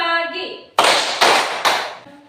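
A voice calls out, then a group of children in a classroom clapping game answers with three loud, evenly spaced hand claps.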